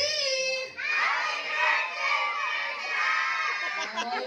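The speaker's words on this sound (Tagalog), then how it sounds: "Parinig ng hiyaw at sigaw. Team B!" A crowd of children shouting and cheering loudly together at a seventh birthday party, a sustained high-pitched roar of voices that swells and holds for several seconds.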